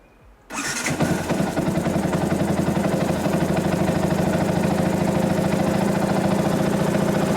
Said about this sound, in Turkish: kontağımı çevirdim ve ilk marşımı veriyorum